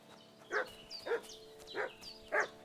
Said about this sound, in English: wild dog.